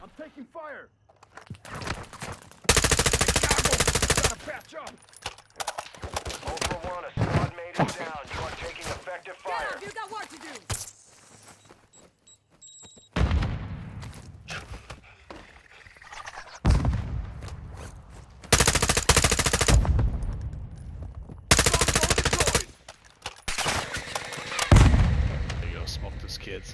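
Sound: gunfire in a shooter video game

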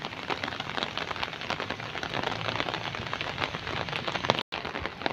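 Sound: heavy rain falling

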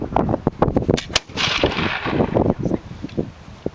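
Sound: musket firing at Valley Forge demonstration

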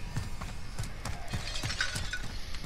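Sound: glass shattering in Call of Duty: Modern Warfare video game

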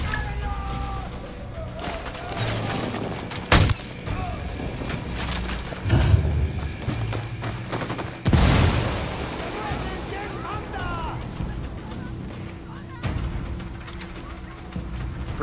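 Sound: gunfire in the video game Ghost Recon Wildlands

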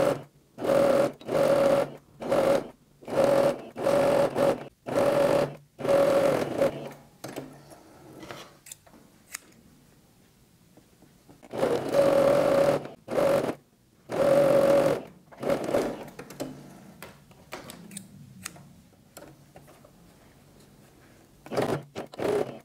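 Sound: sewing machine stitching a toilet paper roll holder

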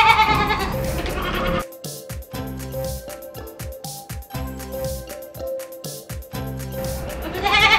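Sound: goat bleating, Sirohi and Beetal cross breed

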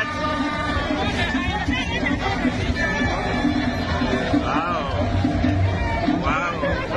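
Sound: large outdoor crowd of supporters at a rally

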